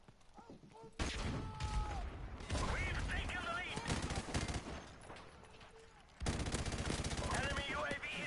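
Weapon fire in Call of Duty: Modern Warfare Remastered, loud bursts of shots in several stretches with brief pauses between them, set against game music and background sound effects.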